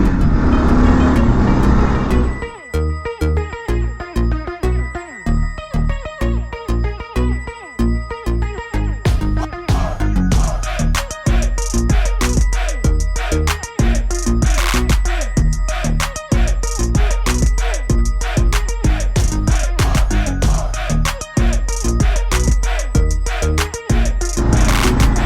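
A Kawasaki KLR motorcycle engine thumps and roars under riding, with irregular bursts of throttle and rapid bumpy pulses over a continuous loud rumble, close and unbroken for the whole stretch.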